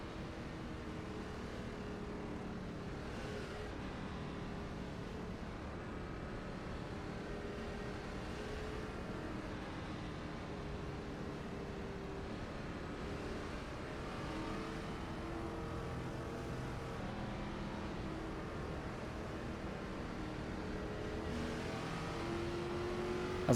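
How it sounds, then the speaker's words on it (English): A pack of NASCAR race cars rumbles along behind the pace car in a video game, a steady droning engine chorus with layered overlapping tones and occasional rises, continuous and moderately loud throughout. "we're just waiting for the pace car to pull into pit road as we make our way around for the start of the race"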